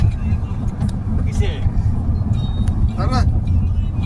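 Night traffic on a street in Kuwait, a low steady rumble of passing cars with occasional faint high tones, while people talk nearby.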